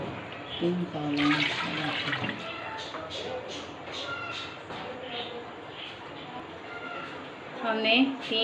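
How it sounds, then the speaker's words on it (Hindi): Water is poured from three bowls into a pot of rice for Eid beef pulao, a soft splashing pour heard in short bursts with clinks from the vessels. A person talks over much of the pouring. "हमने 3 ये कटोरे के अंदर पानी के डाले।"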